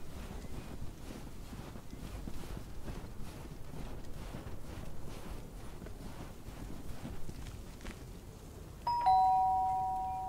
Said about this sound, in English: da unten ist die Türklingel und er macht erstmal Ding Dong